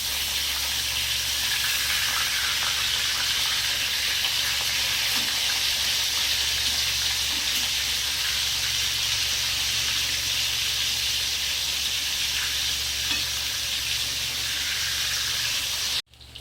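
Shivda fish fries in a pan, giving a steady, close hiss of oil sizzling, even and unbroken for many seconds, until it cuts off abruptly.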